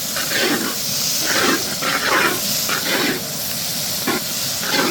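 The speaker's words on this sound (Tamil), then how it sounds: "இந்த வெங்காயத்தோடு இது எல்லாமே நல்லா வதங்கி வரணும்." Onions, green chilies and curry leaves sauté in a hot pan for a Karaikal-style fish thokku, giving a steady close sizzling hiss with soft pulsing bursts throughout and no talking.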